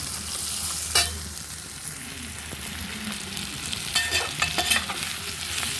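Ivy gourd pieces, already fried in oil and simmering, being stirred in a pan, with a steady close sizzle under repeated scraping stirs, no talking.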